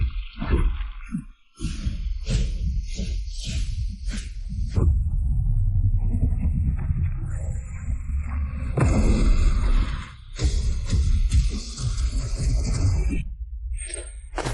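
An anime "Jade Thunder technique" sound effect: a dense, loud rumbling roar with crackling bursts and shattering impacts that swells for several seconds, stops abruptly, then fades into a quieter tail.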